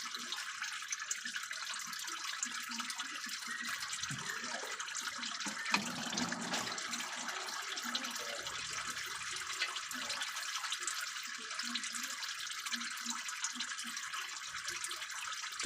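Transmission fluid drains steadily from the 6R80 valve body of a Ford F-150, a continuous trickling, splashing liquid sound that holds at an even level, close by and alone for about fifteen seconds.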